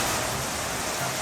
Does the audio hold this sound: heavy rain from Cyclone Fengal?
yes